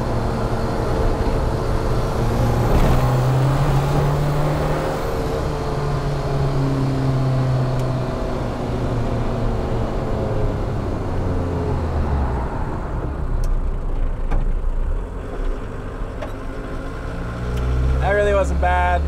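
Turbocharged car accelerating hard in third gear during boost and drive-pressure tuning, a loud sustained engine note with rising harmonics that fills most of the stretch, with some speech over it near the end.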